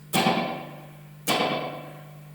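Echolette NG 51 tube tape echo with three replay heads set at full, halfway and slightly up. Two sharp percussive strikes, each trailing into a smeared, fading wash of repeats that dies away before the next.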